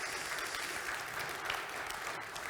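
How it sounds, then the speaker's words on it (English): An audience applauds a guest speaker at the end of a Q&A session, a steady wash of many hands clapping at moderate level throughout. "can we give a round of applause for"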